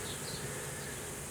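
Honey bees from a hived swarm buzz densely at the hive entrance, a brief, continuous, close hum.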